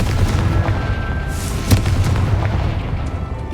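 Confringo spell explosions in Hogwarts Legacy, a loud continuous rumble of booms with a sharp blast about halfway through, set against busy game sound.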